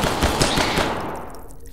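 Rapid automatic gunfire in the video game Hidden Deep, a loud dense burst of repeated shots that rattles for about a second before tailing off into a fading echo.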